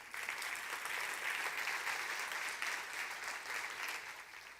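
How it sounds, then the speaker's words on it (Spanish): Audience applauding a group of young girls during a talk, a steady wash of clapping filling the room at even volume from start to finish with no voices over it. "Bueno, un aplauso para las niñas."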